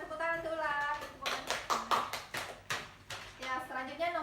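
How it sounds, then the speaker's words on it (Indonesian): Classroom applause for a student named Ulan, several bursts of hand clapping from a group of kids, bracketed by a teacher's speech at the start and end of the moment. "Silakan tepuk tangan untuk Ulan"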